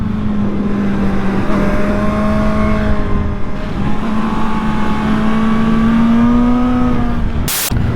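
Suzuki GSR 750 motorcycle engine revving up close, a loud continuous drone that climbs slowly in pitch and ends with a brief sharp burst.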